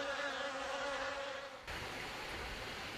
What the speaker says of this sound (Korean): 말벌 몇 마리가 덤벼드는 공격에 토종 벌집은 순식간에 무너집니다